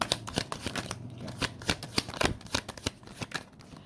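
Tarot cards being shuffled by hand, a fast run of crisp riffling flutters and soft slaps close up, with no voice over them.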